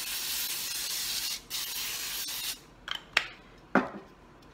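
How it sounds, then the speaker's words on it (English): Store-brand Pam cooking spray hisses in a long steady burst onto a foil-lined 9x13 baking sheet, then a few short sharp spritzes follow, close and clear with no talking. "I'm gonna spray it with some of my HEB brand Pam or olive oil."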